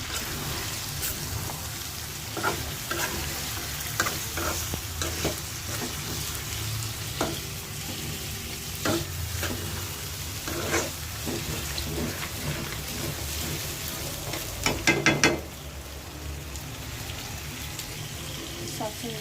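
Meat bhuna stirring and frying in a pan, a continuous close sizzle under repeated spatula scrapes and knocks, louder bursts of clatter near the end, with no talking.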